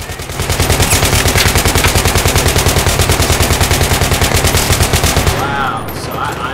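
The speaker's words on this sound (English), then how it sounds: "If you don't know who's shooting at you, you just gotta go guns blazing." Automatic gunfire in the video game Battlefield 3 on Xbox One: a loud, close, sustained burst of rapid shots rattling for about five seconds before cutting off.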